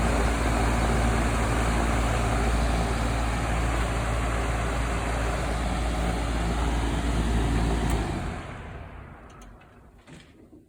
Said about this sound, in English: So our fan is on and working.